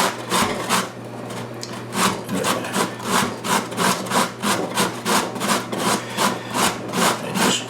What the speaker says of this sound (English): Beginning by grating some zucchini.